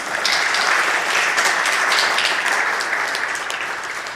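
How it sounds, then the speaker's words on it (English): An audience at a lecture on hip hop and Islam in America breaks into sustained, dense applause. The clapping stays loud and even for several seconds, with no speech over it. "Let's all give Dr. Abdul Khabeer a warm round of applause"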